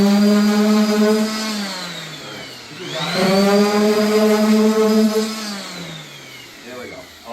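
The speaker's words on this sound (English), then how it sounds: "I sanded it with 240 sandpaper with our sander" A power sander with 240-grit sandpaper works over wood filler on an interior core door, producing a loud, close motor whine that dips and rises in pitch as the tool is pressed and eased off.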